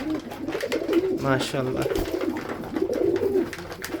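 Pigeons on a farm coo softly and repeatedly while they peck at corn, with someone talking over the birds throughout.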